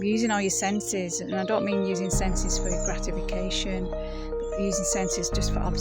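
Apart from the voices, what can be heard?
None of the usual background noises is heard.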